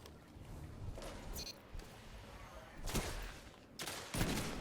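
Sniper rifle shots ring out in the video game Destiny during a Trials match, a few separated loud blasts with broad bursts, mixed with in-game ambience.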